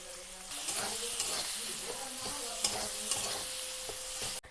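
Potatoes frying with spices for vegetarian ghugni, stirred steadily in a pan, with a continuous close sizzle and hiss and repeated scraping strokes of the spoon throughout.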